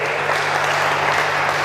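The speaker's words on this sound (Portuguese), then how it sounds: "Dê um aplauso ao Senhor" A church congregation applauds during a sermon, an even, steady wash of clapping with no break, sustained and moderately loud.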